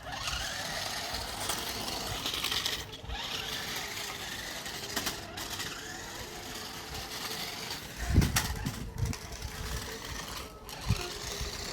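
A low-cost toy remote control off-road car with dual motors and four-wheel drive whines steadily, with brief dips and a few louder rattling bursts near the end.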